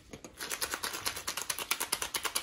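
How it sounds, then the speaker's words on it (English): A plastic egg shaker filled with croutons, shaken in an even, quick rhythm to make dry, crunchy clicking rattles. It is close and fairly soft, with no other sound. "There's the croutons."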